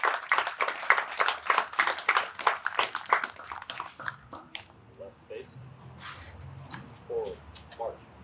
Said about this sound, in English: Let's give a big round of applause to these candidates for their outstanding accomplishments.